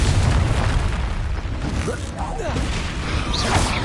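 A Confringo fire spell bursting in the game Hogwarts Legacy: loud, rumbling booms and crackling blasts fill the scene, with a brief creaking, whooshing sweep midway and a voice speaking among the noise.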